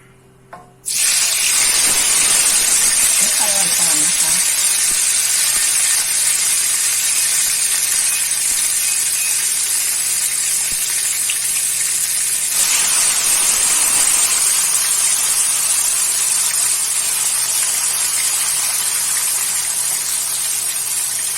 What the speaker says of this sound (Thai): มาทอดกันค่ะ